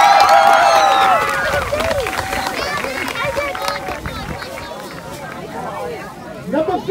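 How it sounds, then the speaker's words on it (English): Crowd at a youth football team event applauding and cheering for cheerleaders and players, loud clapping and babble that fades somewhat after the first second, with voices talking over it. "And a round of applause for all our brave cheerleaders and football players."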